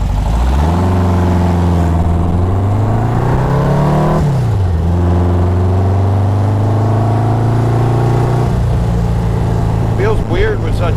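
A 1970 dune buggy with a rebuilt 1776cc engine of about 85 horsepower drives, its air-cooled motor droning loud and near, revving up, easing off and climbing again, with brief voices near the end.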